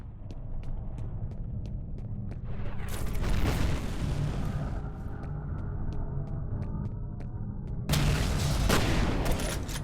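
Heavy gunfire in the video game F.E.A.R., with rapid regular shots ticking through dense booming chaos and two loud bursts of blasts and roaring, close and continuous.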